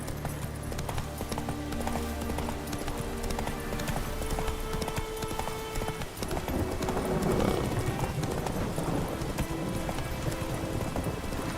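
Horse hooves galloping in The Witcher 3, a rapid rhythmic clip-clop that runs throughout, clear and close over game music and ambient tones.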